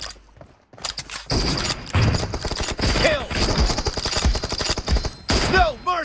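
Rapid bursts of automatic gunfire in PUBG Mobile, loud and close, firing in repeated volleys with short gaps, sharp cracks stacked over the rattle and a brief pause near the start.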